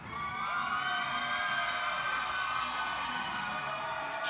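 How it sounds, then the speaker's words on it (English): A crowd cheering and shouting during a roller derby bout between High Rollers and LA Nightmare Squad, a sustained loud wash of voices and whoops, with high siren-like tones layered on top. "Cheer louder, cheer louder,"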